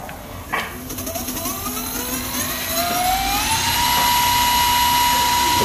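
Electric scooter hub motor swapped from a ZERO 10X, run up to about 3,000 watts on a test: a tonal whine climbs steadily in pitch over several seconds, loud and close, settling into a high steady hum.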